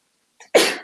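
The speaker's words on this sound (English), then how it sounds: "Oh, had to sneeze." A single sharp sneeze, close and loud, preceded by a brief intake of breath.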